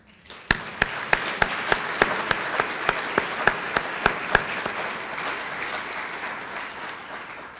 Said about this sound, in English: let's count that applause for every student's story I didn't tell